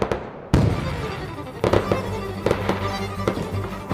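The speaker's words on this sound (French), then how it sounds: "Je reconnais ces feux d'artifice de l'investiture du président." Presidential inauguration fireworks burst and crackle overhead, starting with a sharp bang and followed by repeated booms and scattered crackles at moderate distance, with no voices over them.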